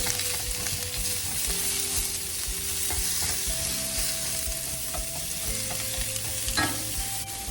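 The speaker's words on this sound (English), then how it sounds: "That sizzle right there is what you want to hear." Vegetables sizzle steadily in a hot pan, a continuous loud hiss and crackle with occasional clinks and scrapes of a utensil stirring.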